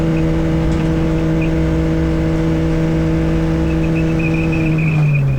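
A CityCar Cup race car at Silverstone drones at a steady engine pitch from inside the cockpit, loud and unbroken, with a slight pitch drop near the end.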